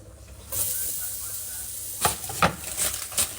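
Capsicum dropped into a hot pan, a soft sizzle rising after a moment with a few sharp scraping or stirring clicks, fairly quiet and close.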